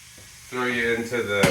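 Olive oil in a frying pan bursts into a sudden sizzle after a quiet start, crackling and hissing close and loud as food hits the hot pan, with a brief voice underneath.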